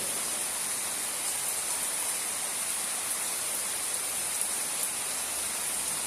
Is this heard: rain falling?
yes